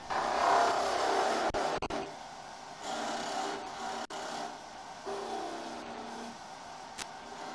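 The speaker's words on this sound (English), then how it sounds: "Turn the lathe back on. Continue with the cuts towards the end of the project." A wood lathe spinning while a tool cuts a small finial on a wobble chuck, a close scraping, rasping whir in uneven passes with short clicks and pauses.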